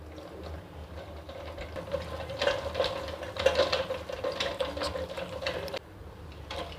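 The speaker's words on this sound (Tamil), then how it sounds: "இப்போ இதை நல்லா இப்படி விஸ்க் பண்ணி விடுங்க அந்த விஸ்காலேயே." Butter and powdered sugar are whisked by hand in a bowl, giving a quick, rhythmic scraping and clinking of the whisk against the bowl that gets busier midway and then stops briefly.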